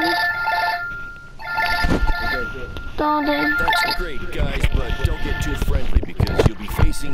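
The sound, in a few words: mobile phone ringing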